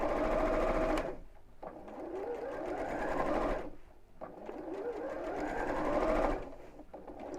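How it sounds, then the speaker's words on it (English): A sewing machine stitches slowly around the top edge of a quilter's mat, running in three long continuous bursts with brief pauses between them, close and fairly loud with no talking. "I'm literally just going to sew around the top of here."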